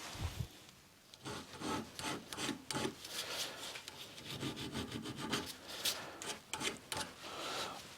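A hand file rasps back and forth on a metal bolt before zinc plating, with close, rhythmic scraping strokes repeating steadily.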